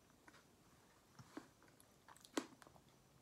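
Close, quiet chewing of a crunchy pumpkin pie burrito with a few sharp crunches, the loudest bite landing near the end, among soft mouth sounds and no talking.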